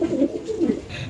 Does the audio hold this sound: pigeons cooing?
yes